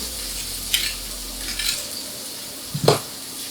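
Burger patties frying in a pan give a soft steady sizzle, punctuated by a few clinks of a utensil scraping and tapping against the pan.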